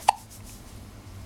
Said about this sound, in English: Oh, you do have the hiccups?